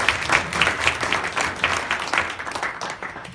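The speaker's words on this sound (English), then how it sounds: "I would like to invite all of you to give a big applause for the West Sumatra governor." Applause from a seated audience at a West Sumatra business opportunity event in Chicago, a dense, steady patter of many hands clapping that continues evenly through the whole stretch.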